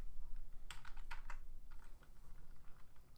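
Quiet clicks of a computer keyboard as an admin password is entered, a short burst of a few keystrokes, then softer scattered taps over faint room hum, with no talking.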